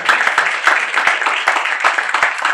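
A church congregation claps during a Sunday worship service, a dense, steady wash of many hands with sharper individual claps poking through, fairly loud and close throughout.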